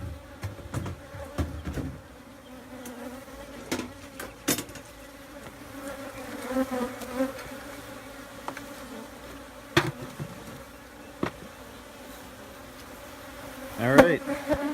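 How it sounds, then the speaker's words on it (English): A relocated honeybee swarm buzzes steadily inside a swarm trap, a dense low hum of many wings close by, broken by scattered louder passes and a short rustling burst near the end. "So let's take a look how these bees are doing."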